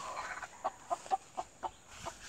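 Several short clucks from free-range village chickens sunning themselves, spaced irregularly over a quiet, hissy background, fairly close but soft.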